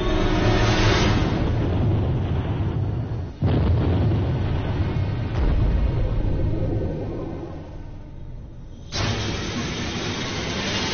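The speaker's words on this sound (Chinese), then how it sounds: "位于福建省漳州市的古雷经济开发区发出巨大爆炸声" A huge explosion at the Gulei Economic Development Zone in Zhangzhou, Fujian, heard as a loud, sustained, heavy roaring rumble that drops off briefly twice before surging back.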